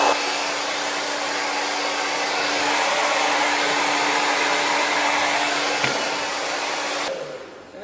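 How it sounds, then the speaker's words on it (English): A Conair Infinity Pro hair dryer runs on its hottest, high setting, a steady, loud, close whoosh of air with a faint whine that holds for several seconds before cutting off at the end. "It's Conair Infinity Pro. Love it. Okay, so hottest setting"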